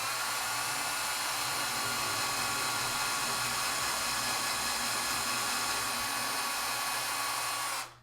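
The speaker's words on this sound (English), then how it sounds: "And I do the dangerous thing of drilling." Power drill boring into a ukulele body to fit a strap button, a steady high whine running alone and close for about eight seconds before cutting off at the end.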